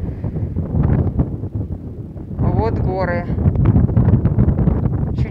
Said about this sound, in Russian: И ветер просто разрывает.